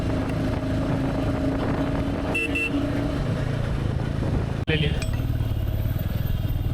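A Royal Enfield Bullet motorcycle thumps along city roads while being ridden, a close, continuous engine drone mixed with wind and passing traffic, with a sharp knock near the end.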